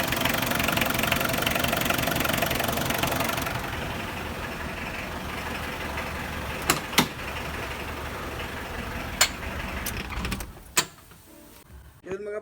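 A repaired Mitsubishi Adventure 4D56 diesel engine idles steadily and loudly up close, its running note dropping partway through, with a few sharp clicks and knocks near the end.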